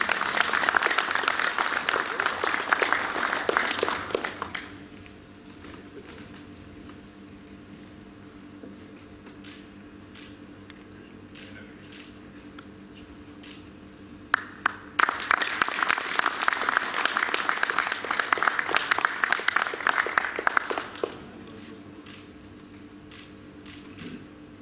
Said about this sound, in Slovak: Myslím, že si to zaslúži potlesk